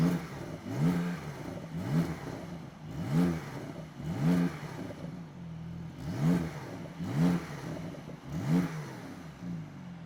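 A Porsche 992 Turbo fitted with an aftermarket IPE exhaust revs repeatedly up close, with a steady rhythm of about one sharp throttle blip every second over a rumbling idle, and no voices.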